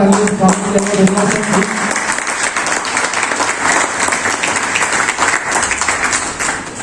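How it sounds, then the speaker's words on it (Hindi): Loud sustained applause from a crowd at a health business seminar in Satna, India, dense continuous clapping with a voice speaking over it at the start. "तालियां बजती रहनी चाहिए"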